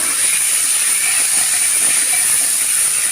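An egg frying alongside pasta in a pan gives a steady, loud hissing sizzle that runs unbroken throughout, with no voices.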